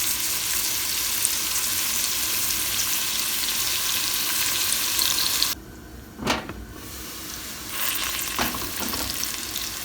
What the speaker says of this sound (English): we're gonna sweat them now until they become translucent